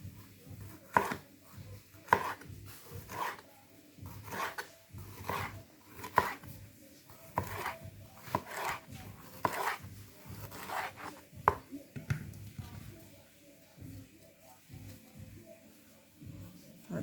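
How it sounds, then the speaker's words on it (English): A knife taps repeatedly against a cutting board while julienning green pepper, giving a string of evenly spaced, close, crisp chops that slow and become more irregular toward the end, over a low background hum. "we'll julienne our green pepper"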